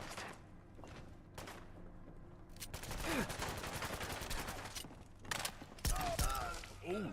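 Video game gunfire crackles in rapid, overlapping bursts of automatic fire, with single sharp shots and thuds scattered throughout, loud and close, while a voice talks underneath.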